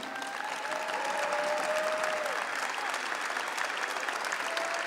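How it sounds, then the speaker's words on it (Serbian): Sustained audience applause at a folk dance concert of golden ensembles and choreographic miniatures, steady dense clapping from a large crowd throughout, with a faint tonal whistle or feedback line running under it. "Aplauz."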